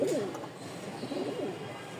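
Pigeons coo softly in a few repeated phrases at a pigeon market in Mirpur-1, Dhaka, set against steady crowd and background hubbub.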